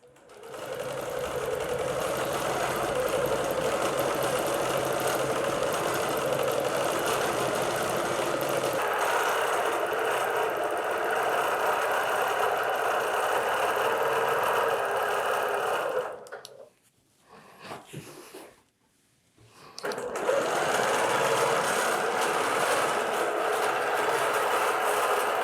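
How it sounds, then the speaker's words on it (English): A longarm quilting machine sews a stay stitch straight across the bottom edge of a quilt in one long, steady, close hum, then stops briefly with a few small clicks before running again. "I'm gonna be stitching a stay stitch basically on this bottom edge, just all the way across"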